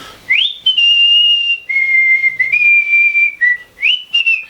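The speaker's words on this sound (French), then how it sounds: "sifflote l'international durant 5 secondes" A single person whistles The Internationale, clear and close, with sustained notes and short gliding pitch changes, a few brief pauses between phrases.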